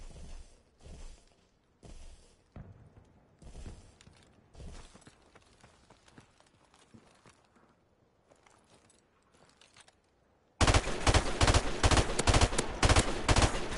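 Gunfire from the video game Call of Duty Modern Warfare Remastered: scattered loud bursts and single shots early on, quieter stretches, then a sustained, very loud rapid barrage at the end.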